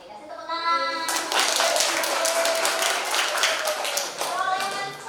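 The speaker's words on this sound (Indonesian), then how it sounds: "Oke, kasih tepuk tangan." Students in a classroom lesson break into about three seconds of lively group clapping, with a speaking voice just before and just after the applause.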